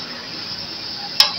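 Bitter gourd frying in ghee, a steady hissing sizzle with a soft stir, ending in a brief sharp scrape or clink near the end.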